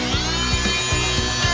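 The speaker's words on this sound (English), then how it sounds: "you're going to use the Multimaster with a scraper blade" Fein Multimaster oscillating tool with a scraper blade tearing up carpet and pad, a loud, close, continuous buzzing whine with a rhythmic scraping pulse repeating about every third of a second.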